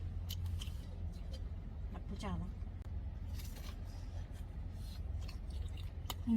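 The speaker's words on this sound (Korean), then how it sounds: "바삭한 소리 들리십니까?" Faint crisp crunches and clicks of chewing toasted rice cake, scattered irregularly over a low background hum, with a brief voice in the middle.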